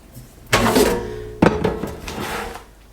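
Plastic cover of a Dreo ChefMaker water tank set back in place with two close knocking clunks about a second apart, each followed by brief scraping and rubbing.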